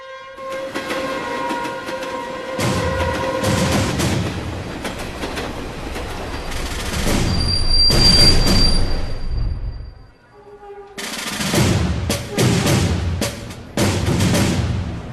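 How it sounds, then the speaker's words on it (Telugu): A train rumbles past loudly with rhythmic clatter of wheels on rails, a horn sounding early on, the roar swelling and fading. "మన తర్వాత వచ్చిన ట్రైన్ కూడా వెళ్ళిపోతుంది"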